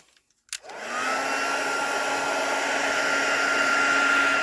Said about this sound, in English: Okay, bring the heat tool back on.